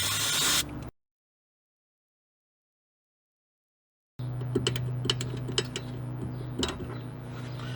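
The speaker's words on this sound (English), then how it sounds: "I like to give it another little wire, gentle wire brushing and another spray." Gentle wire brushing and spraying on a brake pipe union of a VW Polo's rear drum brakes, a short hiss-like burst at first, then a pause of silence before scratchy brushing strokes and small metallic clicks over a steady low hum.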